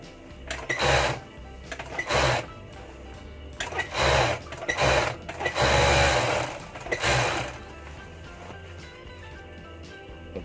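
An overlock serger sews the edge of a button-up uniform shirt in several loud, close bursts of whirring stitching, separated by short pauses, then falls quiet for the last few seconds.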